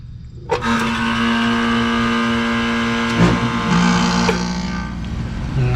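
A 39-year-old Carrier air conditioner kicks on with a sudden thump, settling into a steady mechanical hum and whir, with a second unit starting nearby and a few clunks along the way.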